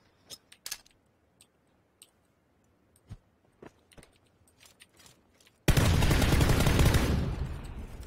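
Scattered light clicks and taps, then a sudden loud burst of rapid gunfire that rattles on for about two seconds.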